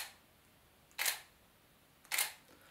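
A single-lens reflex camera shutter fires slowly in burst mode, two crisp mechanical clacks about a second apart, close and isolated against quiet background.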